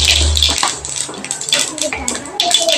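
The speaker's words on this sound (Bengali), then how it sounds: "এবার আমি তেলের মধ্যে গোটা জিরে ফোড়ন দিয়ে দিলাম।" Whole cumin seeds dropped into hot oil in a wok hiss and crackle with a loud, broad sizzle that runs on steadily, close up, with faint clinks from the pan.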